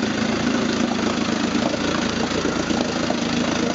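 A 1958 Evinrude Fastwin 18 HP outboard motor idles smoothly with a steady, even mechanical drone and fine rhythmic pulsing, close and moderately loud, with no talking.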